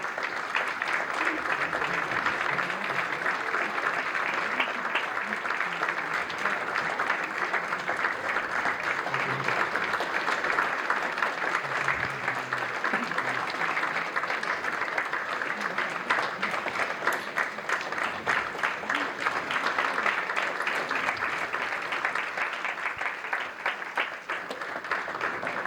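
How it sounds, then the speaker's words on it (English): Sustained, dense audience applause at the World Food Movement launch in New York and New Jersey, a large crowd clapping steadily and loudly without pause for nearly half a minute. "You don't need to stop with your clapping this evening, I think."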